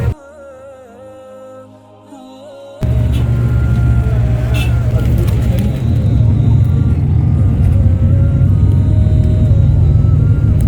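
A quiet interior with faint tones gives way abruptly to the loud, steady engine rumble and road noise of a moving bus in Makkah, continuous and close from the cabin.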